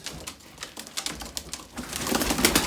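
Pigeons coo and rustle nearby as they are sent into flight, with fluttering wing flaps and scattered clatter building louder toward the end.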